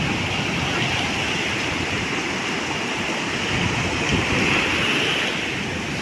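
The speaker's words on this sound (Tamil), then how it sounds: "காற்று பயங்கரமாக அடிக்குது கைஸ்" Strong wind roars across the microphone at Neelankarai Beach, with continuous surf washing underneath, steady and loud throughout.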